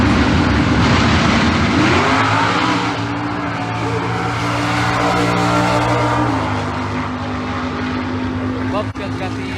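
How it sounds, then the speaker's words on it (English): A 67-68 Camaro and a Monte Carlo launch at a stock/super stock drag race: a loud, sustained engine roar with rising pitch that holds for several seconds, up close and filling the whole stretch. "Buff's got the 67 68 Camaro there, and Joey spun off the line in the Monte Carlo"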